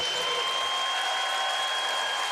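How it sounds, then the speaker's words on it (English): Steady applause from the home crowd at a UConn basketball game against Kutztown in Hartford, a dense, even clatter of clapping that runs on at a moderate distance for the whole stretch. "The crowd showing their appreciation."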